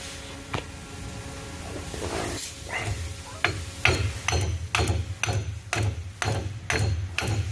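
A hammer strikes a pinion flange again and again to seat it on the rear axle of a cammed Ram truck fitted with Yukon parts. About a dozen sharp metallic blows ring out up close, coming faster and steadier in the second half.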